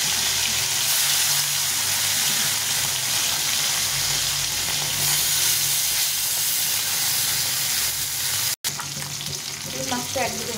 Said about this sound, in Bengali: তেলটা গরম হয়ে গেছে, মাছগুলো ভেজে নেব